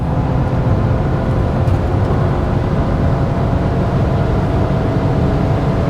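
A BMW E36 328i cruising at high speed around 5,000 RPM, giving a dense, steady roar of engine and road noise that stays even and constant from start to finish.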